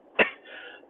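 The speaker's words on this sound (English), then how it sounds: "I just had a cough attack." A single sharp cough bursts out close to the microphone during a conversation about pythons, followed by a faint lingering breathy tail.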